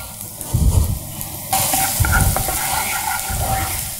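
Finely chopped garlic fries in hot refined oil, a steady close sizzle with stirring scrapes that starts abruptly and continues without pause. No one talks.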